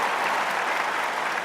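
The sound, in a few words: crowd noise and applause around Wimbledon centre court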